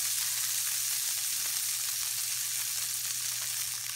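Margarine heating in a pan over a medium-high flame gives a steady, even sizzle that hisses continuously at close range, with no voices over it.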